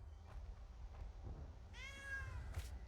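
A cat gives a single clear, drawn-out meow toward the end, heard close by over a low background hum.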